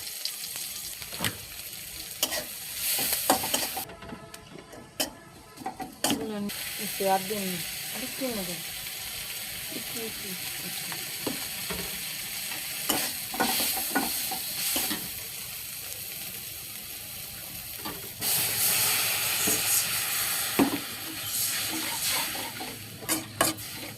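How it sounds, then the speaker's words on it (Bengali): Prawns and malabar spinach sauté in a pan, giving a steady close sizzle with intermittent stirring scrapes and clinks, broken by a brief burst of running water, with some talk in the background. "চিংড়ি মাছ দিয়ে খুব সুন্দর করে কষাতে হবে।"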